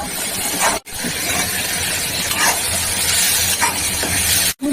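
Cumin, chilli, bay leaf, tomato and onion sautéing in a pan for capsicum prawn curry, a steady close sizzle and hiss with brief stirring scrapes, broken by two short silent gaps.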